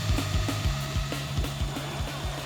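A maxed-out, high-power drill spins a massive top, giving a steady motor whir with a regular ticking, ratchet-like clatter repeating about twice a second, close and fairly loud.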